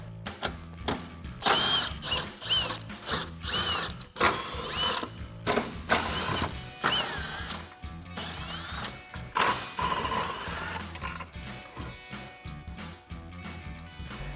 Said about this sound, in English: grab a 13 millimeter socket and remove all the bolts